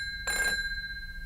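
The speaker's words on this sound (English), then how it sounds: "would you mind answering the phone again?" A telephone rings once in a short, bright burst with sustained tonal ringing that lingers faintly afterward, heard alone in a quiet room.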